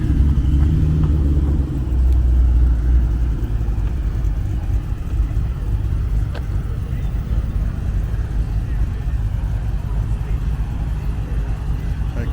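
Engine rumble from a clean Chevrolet Camaro with a 6.9 engine and carbon fiber parts at a Southern California car cruise meet, a steady low idle with a brief louder surge early on, people talking nearby.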